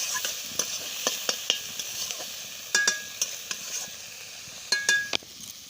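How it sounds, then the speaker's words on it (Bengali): Salted onion and tomato fry in a pan with a low sizzle while a spoon stirs, making sharp scraping taps in small bursts, close and clear, with no one speaking. "পেঁয়াজও তাড়াতাড়ি ভাজা হয়ে যাবে।"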